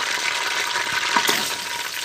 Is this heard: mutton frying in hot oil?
yes